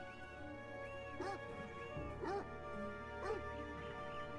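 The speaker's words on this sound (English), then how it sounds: "I hear oh, it's another dog." A dog in the video game Beyond Eyes gives repeated yips and whimpering barks in a few short bursts, sitting over steady game music and ambience.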